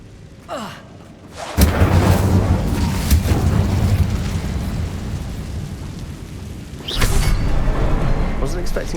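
A fiery Incendio spell blast in Hogwarts Legacy erupts as a loud, rumbling roar that surges, holds for several seconds, then flares again near the end.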